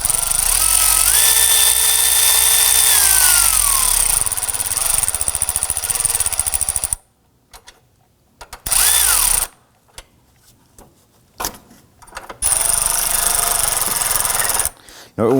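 Power tool driving bolts down on a 2005-2009 Subaru Legacy during a valve timing solenoid replacement, loud whirring bursts with pitch sweeps in the first seconds, then short intermittent bursts separated by silences.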